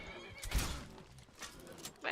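A horse in Skyrim neighs loudly in a short whinny with hoof clops around it, while someone talks over the sound.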